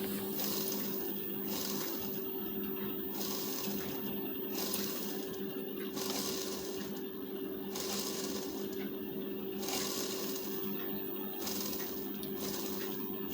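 A sewing machine runs steadily while stitching a folded blouse strip with firm stitches, a continuous mechanical whir with a constant hum and faint periodic rises in its rattle, moderately loud and close, with no speech.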